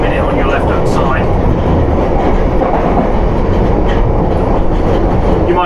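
A London Underground Piccadilly Line train runs at night toward Hyde Park Corner, giving a loud, continuous close rumble with steady wheel clatter throughout.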